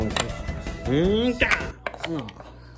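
In an animated Angry Birds cartoon, a character chops at a stone, giving a few sharp thunking impacts mixed with squeaky, whinny-like cartoon vocal sounds from the characters, all close and fairly loud.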